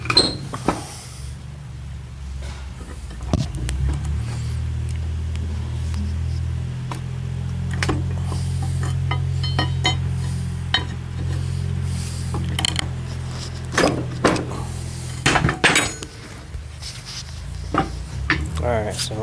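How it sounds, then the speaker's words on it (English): A pry bar levers copper wire windings out of an electric motor, giving scattered scraping, creaking and sharp metallic snaps over a low mechanical drone, with someone talking throughout. "Get a pry bar in here underneath the first run"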